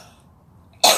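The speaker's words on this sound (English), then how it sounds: "I'm going to go stop coughing." A single sharp cough bursts out at the very end after near silence, close and loud, from a woman bothered by candle smoke.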